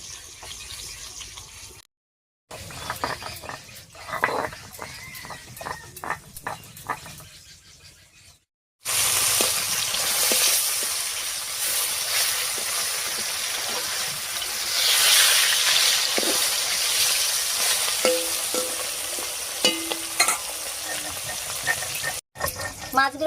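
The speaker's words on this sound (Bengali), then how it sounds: "মাছটা ভাজা হতে হতে আমি একটুখানি মশলা করে নিচ্ছি।" China puti fish shallow-frying in hot oil, a steady loud sizzle running through most of the clip after a few quieter stretches with scattered clinks and faint movement.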